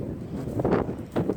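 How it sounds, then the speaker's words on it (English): Gusty wind buffets the microphone outdoors near a house porch, a low rumbling roar that swells in two stronger bursts, with no speech over it. "I know that wind has to be bothering you guys, the noise."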